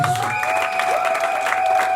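A church congregation applauds and cheers in a steady wash of clapping that continues through the whole stretch, mixed with sustained musical tones and a held voice.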